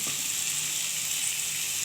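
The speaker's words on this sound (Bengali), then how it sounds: "খুব বেশি ভাজবো না, মোটামুটি ভাজা হবে" Oil sizzling in a pan while ingredients fry lightly for a spinach dish with fish roe and oil pota fritters, a dense, even hiss that stays close and constant with no break.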